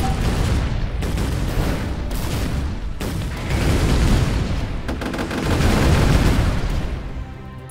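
Bumper bombs burst in the artillery game ShellShock Live, a loud rapid series of booming blasts and crackling impacts rolling over one another for several seconds, with no talking.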